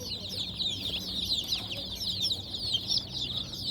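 Newly hatched chicks, about a day old and active, chirp continuously as a dense chorus of many high peeping calls across the whole stretch, busy and fairly close.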